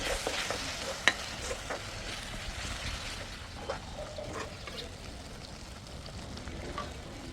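Gravy for Kathiawadi stuffed brinjal is stirred in a pan over a wood stove, with soft scraping and wet sloshing over a low sizzle and a few sharp clinks of the spoon.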